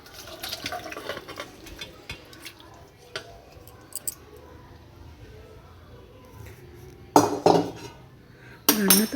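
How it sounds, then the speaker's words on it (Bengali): Cooked pabda fish curry is ladled into bowls, with scattered clinks and clatters of a spoon and dishes, two louder bursts of contact near the end, over low background noise. "এই যে এবার বাটির মধ্যে বেড়ে রাখছি।"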